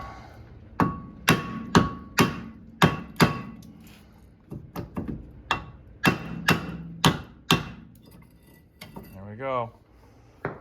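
A hammer strikes a 2010 VW wheel hub's face to knock it loose, a run of sharp metallic bangs in uneven bursts with short pauses between groups.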